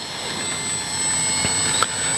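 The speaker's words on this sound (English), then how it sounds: "Motor is live and will cut you." The electric motor of an FMS Ranger 1220 radio-controlled plane runs steadily on the ground outdoors on a calm day, a close, even whirring roar with a brief small spike near the end and no speech.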